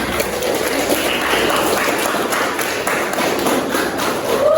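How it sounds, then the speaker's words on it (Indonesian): Schoolchildren in a classroom applauding a winning group, a steady wash of many hands clapping at moderate loudness without a break, no talk over it. "Tepuk tangan."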